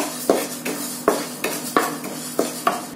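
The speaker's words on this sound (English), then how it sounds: "I am going to dry roast it for 5 minutes." Urad dal dry roasting in a pan makes a quiet, regular rhythm of spoon scrapes and clinks against the metal, about seven strokes in three seconds, each with a light rustle of the dry lentils.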